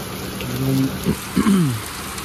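Steady rain falling outdoors makes a continuous soft hiss through a brief moment, with a voice sounding faintly over it.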